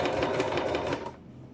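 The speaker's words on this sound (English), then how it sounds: "I'm going to do reverse stitch" A sewing machine runs a reverse stitch on a zip, a close, rapid mechanical whirr with a steady stitching pulse that stops abruptly, leaving quiet room tone.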